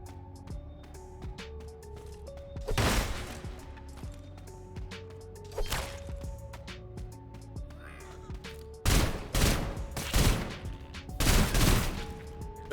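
Bursts of automatic gunfire from the video game Sulfur, sharp rapid volleys in several clusters over steady game music and ambience, loudest in the closing seconds.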